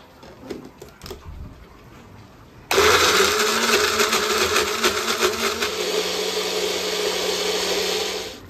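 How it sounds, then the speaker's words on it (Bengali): A mixer grinder whirring through fried onions, nuts and raisins: after a quiet, faintly clattering start it switches on abruptly and runs as a loud, steady motor drone to the end. "ভেজে রাখা পেঁয়াজ আর বাদাম, যেগুলো দিয়েছিলাম বাদাম কিশমিশ সবকিছু ভালো করে একটু মিক্সিতে ঘুরিয়ে নেব"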